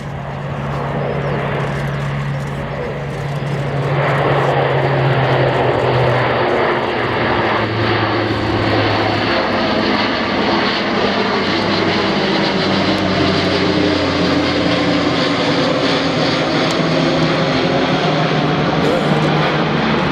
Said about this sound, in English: It looks like he's performing a go-around.